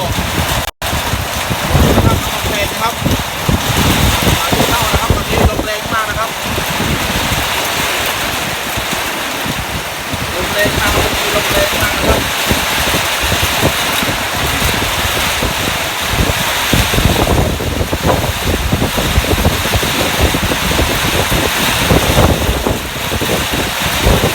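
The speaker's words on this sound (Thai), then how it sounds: "นะครับลมแรง พายุมานะครับ" A strong storm with heavy wind and rain, roaring loudly and continuously at close range, with gusts buffeting the microphone throughout; someone talks over the noise.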